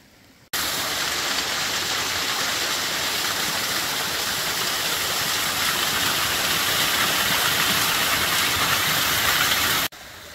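Water rushing from a cave river toward waterfalls in Indiana's Cave River Valley, a steady, loud broadband roar that holds unbroken for about nine seconds, close by and with no voices.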